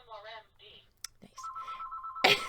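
A phone rings in a room, a steady electronic tone starting partway through and continuing to the end, with people talking just before and over it.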